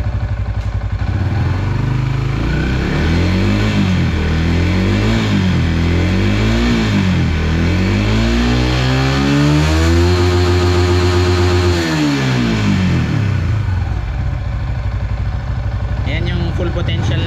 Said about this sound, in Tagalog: So i-test natin kung ilan yung RPM limit niya.